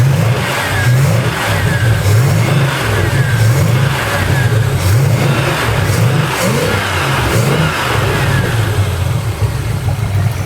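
A car engine revs up and down repeatedly in a steady, loud, close rumble, with rising and falling pitch swells over a constant idle-like drone and no talking.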